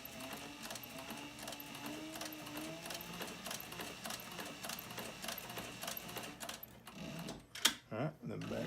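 A sewing machine stitches a dopp kit and back stitches a few, running in a steady rapid mechanical rhythm at close range before stopping near the end amid some handling clatter.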